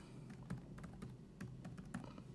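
Quiet clicks of typing on a computer keyboard, a short irregular burst of keystrokes with several sharper taps, close by, with no talk over it.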